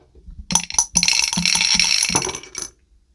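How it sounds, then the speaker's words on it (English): Dice rolled on a hard surface, a close, loud clatter of tumbling clicks and rattles that builds, then settles with one last knock before silence. "let's see what the dice have to say. Dice of Destiny for shelf 15"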